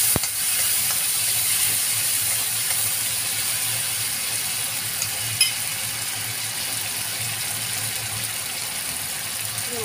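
Chickpeas frying in a pan while being stirred, giving a loud, continuous sizzle with a steady hiss that goes on throughout and one brief scrape near the middle.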